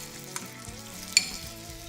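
Homemade gnocchi sizzle softly in a frying pan as they begin to brown, a quiet steady frying hiss with a brief clatter as pieces land in the pan.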